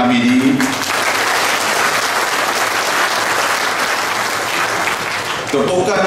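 Sustained, dense audience applause at a Malaysian political gathering in Bagan Datoh, steady and loud for about five seconds before a voice cuts in near the end.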